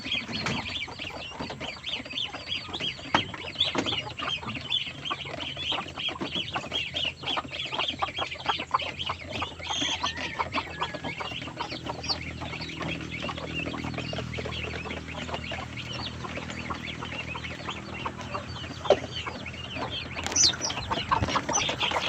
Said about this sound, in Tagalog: Yan po ang aking mga pabo.